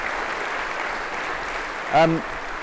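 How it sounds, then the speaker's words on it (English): Audience applause at a TV advertising forum, a steady, fairly soft wash of clapping with a short tonal voice or sound rising briefly over it midway. "I think we should give Craig a massive round of applause"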